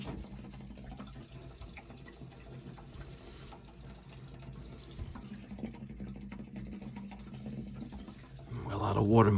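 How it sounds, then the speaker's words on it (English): Water rushing through a long run of newly installed heating pipe, a steady churning flow that swells louder near the end, with a bubbling gush as it builds. "A lot of water moving"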